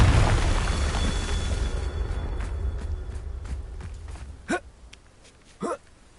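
Confringo blasting spell in the video game Hogwarts Legacy, a loud rumbling burst at the start fading over two seconds, followed by two short sharp whooshing hits near the end.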